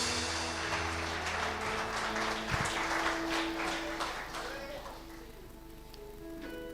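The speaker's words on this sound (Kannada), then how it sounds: "Come on, clap your hands and receive it." A church congregation claps their hands together at a revival meeting, a brisk, dense patter of many hands that gradually softens, with a sustained musical tone and a voice underneath.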